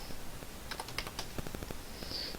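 Steady typing on a computer keyboard, a quick run of light clicking keystrokes close by, with no talking over it.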